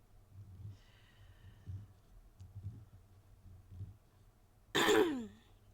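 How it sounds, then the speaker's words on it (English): A loud, harsh throat clearing bursts out once near the end, after several seconds of quiet, low breathy rumbles, from someone getting over being sick. "I'm sorry I've been coughing and clearing my throat a lot"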